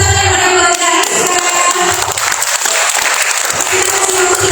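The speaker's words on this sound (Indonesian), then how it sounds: "kita kasih tepuk tangan kepada Kak Rizka." At a job fair interview workshop, a room of attendees claps loudly and continuously for an incoming speaker, following a brief burst of music.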